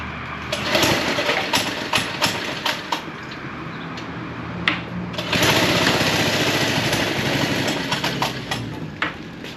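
Small engine of an old childhood go-kart, restored and starting for the first time in 40 years, sputters and putters unevenly with irregular bursts and a fuller stretch of running, fairly close and loud, no talk.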